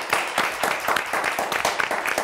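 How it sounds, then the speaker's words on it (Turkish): Studio audience applause for quiz contestants on the Turkish game show Kelime Oyunu, a dense, steady patter of many hands clapping close up for a couple of seconds. "Bir alkışlayalım ama bütün yarışmacılarımızı."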